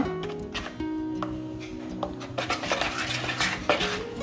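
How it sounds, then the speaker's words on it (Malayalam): A spoon stirs bajji batter with a pinch of baking soda in a bowl, giving close, scraping clinks and wet rubbing strokes over faint background music. "നന്നായിട്ടൊന്ന് മിക്സ് ചെയ്ത് കൊടുക്കുക"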